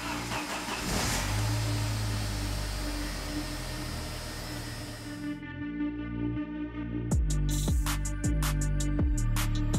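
A Jeep YJ engine rumbles close by and shifts in tone midway, then a run of sharp, rapid bursts as it catches and settles into running.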